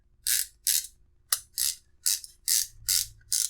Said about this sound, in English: Everything's still ratcheting very nicely.